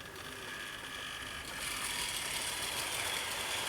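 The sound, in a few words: Wrenn model locomotive pulling 35 coaches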